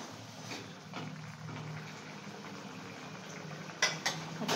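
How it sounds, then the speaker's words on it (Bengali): A pot of fish curry with potatoes simmers quietly on a gas stove, a low steady bubbling with a few faint clinks and louder bursts of bubbling toward the end. "আচ্ছা, ঝোল ফুটে গেছে"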